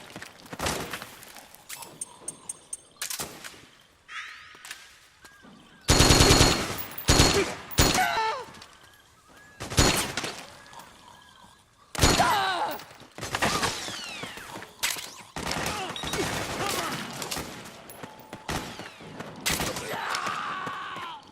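Video game gunfire from Metal Gear Solid 4 rings out in sharp bursts and rapid volleys, mixed with shouted commands, grunts and footsteps in a busy battle scene.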